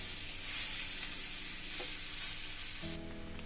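Momo filling cooks in a pan with a steady close sizzle and stirring. The frying noise drops abruptly near the end, leaving a low hum.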